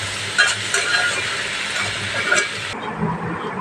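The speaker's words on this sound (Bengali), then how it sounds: "ভাজিটা প্রায় হয়ে এসছে আর একটু ভেজেই নামিয়ে ফেলবো" Cabbage and potato fry sizzles steadily in a pan, a continuous close hiss with soft stirring scrapes throughout, easing slightly toward the end.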